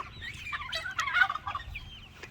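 A flock of newly hatched barnyard chicks chirping together, with busy overlapping high peeps at moderate loudness and no talk.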